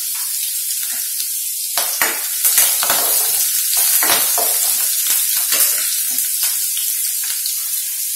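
Thin coconut slices, onion and garlic fry in a pan with a bright, continuous sizzle, broken by frequent scrapes and taps of a spoon as they are stirred.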